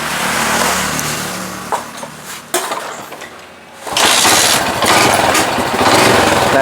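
A Yamaha RX King motorcycle engine, tuned with an RX King carburettor, fires up and runs loud and close, revving hard, dipping briefly mid-clip, then holding a steady, raspy roar.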